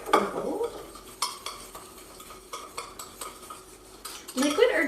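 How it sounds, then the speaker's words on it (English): Spoon stirring colored sugar scrub in a bowl, gritty scraping with light clinks against the sides, close and moderately loud, ending in a busier burst of scraping. "we're just gonna mix this to get all the colors in"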